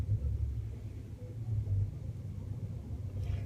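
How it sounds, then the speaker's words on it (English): A tram rumbles along the street behind a car, a low, steady, fairly close drone that swells and eases with no other sounds over it. "before we get hit by this tram behind us"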